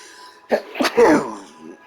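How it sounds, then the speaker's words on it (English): A single abrupt sneeze, close and loud, with a breathy catch before it and a brief vocal trail after, over quiet background hum. "I'm going to sneeze."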